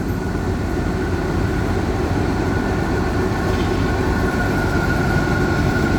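An uncoupled freight-train locomotive moves through a rail yard near Bang Sue, giving a continuous loud, even rumble with a low engine drone and no voices.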